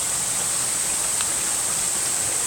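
Twin Waterfall on lot 15B, heard as a steady, unbroken broadband rush of falling water at moderate distance, with no voices over it.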